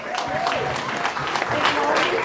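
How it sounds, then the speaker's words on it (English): Audience applause for a comedian at an 80th birthday party, steady clapping with some crowd noise across the short clip, fairly close and moderately loud, with voices audible over it. "Can we have a round of applause, please, for me dad's favourite comedian, Trevor Wallace?"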